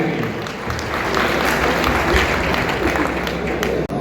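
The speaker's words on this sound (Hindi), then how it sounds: "जोरदार तालियां" A crowd applauds at a Walmart Vriddhi event in Mau, India. The dense, loud clapping runs continuously and is close to the listener, with a brief dip just before the end.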